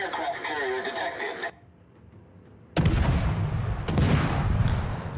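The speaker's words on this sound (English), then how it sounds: "Shooting outside of detection range." Naval gunfire from the game World of Warships: a short burst of talk, a brief quiet gap, then a loud booming salvo followed by a second heavy blast with lingering rumble.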